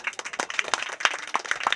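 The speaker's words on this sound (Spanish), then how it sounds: "Un aplauso acá para el amigo." Scattered hand claps from a small crowd at a school open house, sharp and uneven, with individual claps distinct rather than blended into a roar.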